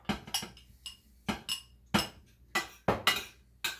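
Dishes and serving utensils clink while a home-cooked dinner of steamed cauliflower, carrots and cheesy ranch potatoes is plated: about eight sharp, close ceramic and metal taps come in an uneven rhythm, with quiet gaps between them.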